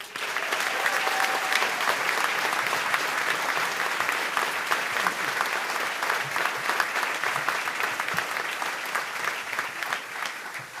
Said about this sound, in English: Please give a round of applause for our chancellor